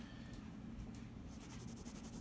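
A pencil shades fast on paper, a faint, soft scratchy rubbing that runs steadily throughout with quicker strokes near the end.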